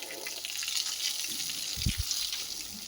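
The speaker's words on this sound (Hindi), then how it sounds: "ये देखिए पानी की स्पीड" Fast water rushes steadily in a village channel, a close, constant broadband hiss with a few low thumps partway through and no talking.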